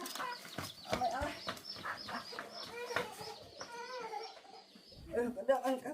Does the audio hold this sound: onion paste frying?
no